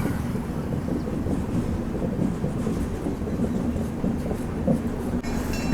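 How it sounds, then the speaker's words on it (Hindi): Duronto Express train pulling out of Nagpur Junction alongside another departing express, a steady rumbling rail noise with wheel clatter heard from on board, continuous and moderately loud with no talking. "अभी अपनी दुरंतो एक्सप्रेस और तमिलनाडु एक्सप्रेस दोनों एक साथ ही निकल रही हैं नागपुर जंक्शन से, पैरेलल डिपार्चर हो रहा है।"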